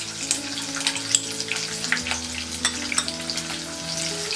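Garlic and tamarind fry in a pan for red coconut chutney, giving a steady close sizzle with occasional sharper crackles and spatters, no voices.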